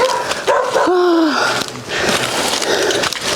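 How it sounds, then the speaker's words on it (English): A puppy gives a few sharp, high yips and barks close by, followed by softer whimpery noises. "Puppy alarm."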